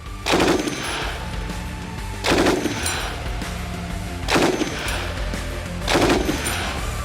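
An FN MAG machine gun fires four separate bursts at a frontline position, each a loud rapid volley about a second long, with echoing rumble between the bursts.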